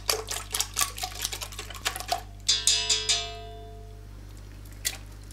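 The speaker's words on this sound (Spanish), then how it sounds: "En el bol de la batidora cascamos los huevos y batimos ligeramente." Eggs cracked into a stand-mixer bowl and lightly beaten, giving a run of quick, fairly close clicking and tapping strikes that bunch into a brief louder burst before trailing off, heard alone over a steady low hum.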